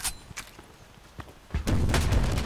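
Gunfire in the online shooter Contract Wars: a few faint sharp shots, then a louder burst of rapid firing toward the end.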